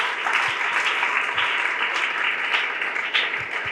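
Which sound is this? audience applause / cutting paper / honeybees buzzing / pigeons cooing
audience applause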